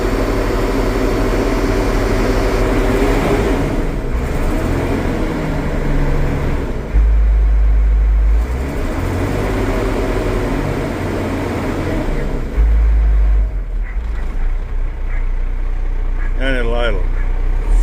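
A small Freightliner truck's diesel engine roars at full throttle in steady surges, then drops back to a lower idle, loud and close, with someone speaking briefly over it.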